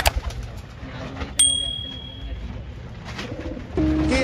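A pair of Kalsara pigeons coo in low, repeated throaty calls close by, with a brief bright ding and other faint bird sounds around them and no talk.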